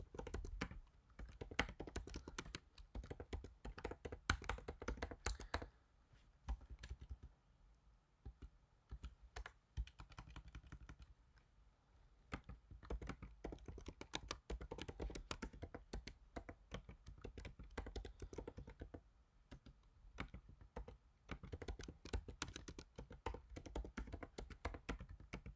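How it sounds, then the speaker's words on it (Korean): Commands are typed on a computer keyboard, producing quiet, rapid clusters of clicking keystrokes with brief pauses between bursts, heard close up with no talking. "명령어를 타이핑한 후에 설명드리도록 하겠습니다."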